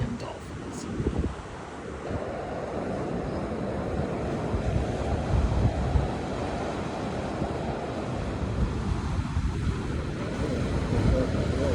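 Ocean waves break on a Myrtle Beach shore on a February day, a continuous low wash and roar with wind buffeting the microphone, close and fairly loud throughout.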